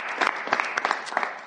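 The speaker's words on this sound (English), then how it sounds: "Clap it up for that." Audience applause at a live New York podcast taping, a short burst of many hands clapping with scattered sharper claps standing out.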